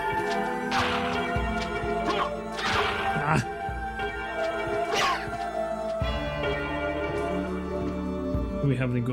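Bell tolls ring out in Castlevania: Symphony of the Night, several resonant strikes spaced a second or two apart over game music, with occasional thuds and crashes.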